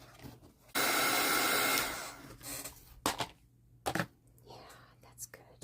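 A hair dryer blows on wet papercraft in one steady, loud burst of roughly a second, then cuts off, leaving quieter handling noises and a few sharp knocks.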